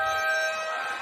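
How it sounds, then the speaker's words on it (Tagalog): A basketball game buzzer sounding at the end of a quarter, a loud steady electronic tone held for about a second, fading slightly toward its end. "3-point lead para sa AFP after a buzzer beater coming from Diaz"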